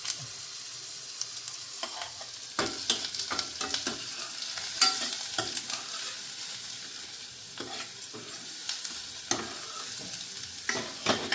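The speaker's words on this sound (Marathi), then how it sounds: "लसूण टाकल्यानंतर ज्या आपण मिरच्या घेतलेल्या वाळलेल्या ह्या अशा टाकायच्या" Dried red chillies, broken by hand, fry in hot oil in a pan after garlic for a village-style urad vada curry, giving a steady sizzle with repeated stirring scrapes and clinks throughout.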